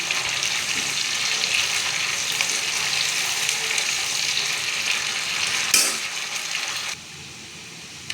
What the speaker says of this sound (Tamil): வெங்காயம் எண்ணெயில் நல்லா வதங்கணும்